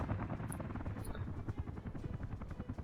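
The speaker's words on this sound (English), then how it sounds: "the first helicopters are arriving already" Helicopters arrive in the city-building game Workers & Resources, a steady rhythmic rotor chop with a low droning buzz, fairly quiet and continuous with no talk.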